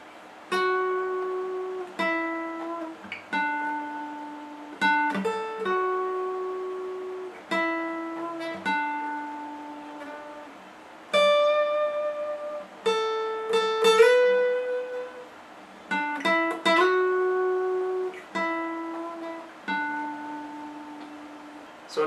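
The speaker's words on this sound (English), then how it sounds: "So the whole thing slowly sounds like this." Slow guitar riff, a series of clean plucked notes with some string bends, picked out deliberately one at a time with short gaps between phrases and no talking.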